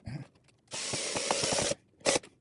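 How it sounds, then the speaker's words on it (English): A power drill bores through a plant pot in a short, steady whir lasting about a second, followed by a brief second burst, close and fairly loud with faint handling noises around it. "So I'm going to get my drills right over here"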